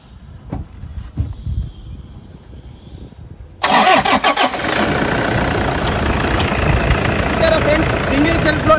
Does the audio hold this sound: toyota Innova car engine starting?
yes